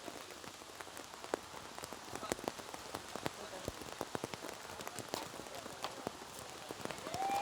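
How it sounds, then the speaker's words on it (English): Heavy monsoon rain pours steadily in Shanghai during an archery competition, with dense drops pattering and splashing loudly on a hard surface, forming a constant wash of noise. "As you can see, the downpour."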